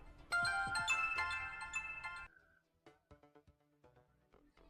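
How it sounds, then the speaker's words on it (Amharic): A work phone rings with a loud, melodic electronic ringtone for about two seconds, then cuts off, leaving faint scattered room sounds. "የሥራ ስልክ ነው።"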